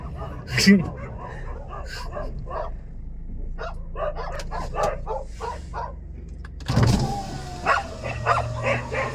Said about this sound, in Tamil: இந்த குறைக்கும் நாய் குறைத்து கொண்டே தான் இருக்கும்